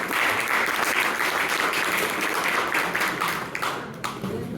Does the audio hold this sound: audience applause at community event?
yes